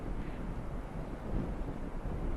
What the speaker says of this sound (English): Very windy place